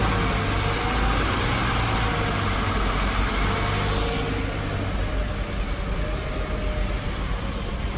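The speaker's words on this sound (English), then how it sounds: "Accelerate like about 2000 RPM." A 1999 Nissan Patrol engine is held at a steady rev of about 2000 RPM, a loud, continuous close-up drone whose tone eases slightly partway through, with no one talking.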